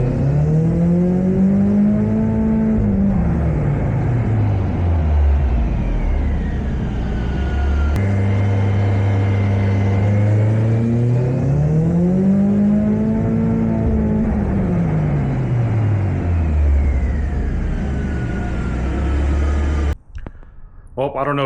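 Nissan S13 with a boosted engine revving on a dyno during repeated pulls: a loud engine note climbs steadily, falls away, then climbs again, cutting off abruptly near the end, with voices under the engine.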